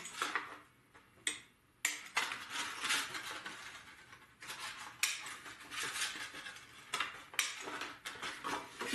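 Scissors snipping the corners off paper for a pop-up scrapbook album page, a series of close, quiet crisp cuts at irregular intervals with small handling rustles between them.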